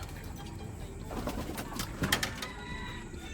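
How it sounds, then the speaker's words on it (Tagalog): Racing pigeons coo nearby in soft, low, throaty bursts, several calls rolling one after another against a quiet background. "Nauna pa yung sa taas mga kalapatids"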